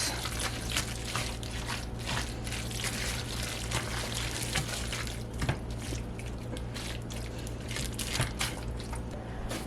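Chili being stirred with tomato paste, giving a continuous wet squelching and dripping texture with soft, irregular sloshes over a steady low hum, close and fairly quiet.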